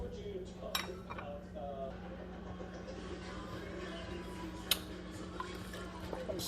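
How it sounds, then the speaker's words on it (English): Seafood and smoked sausage gumbo is stirred in a pot, with soft scraping, a few light metallic clinks and one sharper knock of the spoon over a low steady hum. "Stir this up a little bit."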